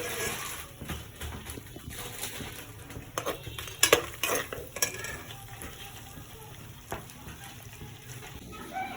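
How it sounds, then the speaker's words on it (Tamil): Masala spices roasting in a pan for a palak paneer dish, a low steady sizzle with clinks and scrapes of a spoon against the pan, busier in the middle with a run of sharp metallic knocks. "இதையும் போட்டு காஞ்சிருத்து இதோட மசாலா இதெல்லாம் போட்டுக்கலாம். போட்டு நல்லா வறுத்துக்கலாம்."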